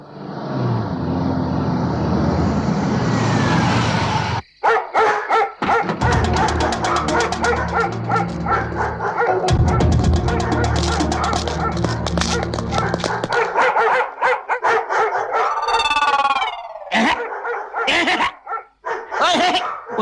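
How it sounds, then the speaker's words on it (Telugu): Several dogs bark and yip in a loud, rapid, overlapping chorus close by, with a few whimpers and a brief gap in the middle, continuing for the whole stretch. "పాడు కుక్కలారా, ఈ అరుపులతో నా చెవులు చిల్లులు పడిపోతున్నాయి కదే."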